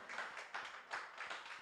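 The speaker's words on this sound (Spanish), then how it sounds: "Dale un aplauso al Señor en esta hora." A church congregation claps in faint, rhythmic waves, several quick rounds of applause heard from a distance with no voices over them.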